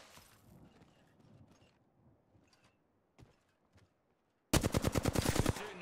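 A short burst of rapid automatic gunfire in the game Apex Legends, about a dozen evenly spaced loud shots, coming after a few seconds of faint clicks and quiet game sounds.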